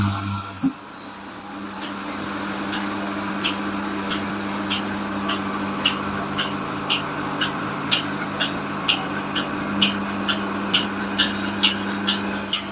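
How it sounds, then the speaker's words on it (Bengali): A milking machine works on a cow, its pulsator giving a steady series of short regular clicks over a continuous hiss and low hum, growing slightly louder and quicker toward the end. "আমি এখন মেশিন দিয়া মিলিরে দুধ দহন করতে পারি"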